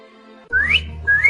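A girl in an animated story whistles two bright rising notes, short and clear, over a soft low background hum.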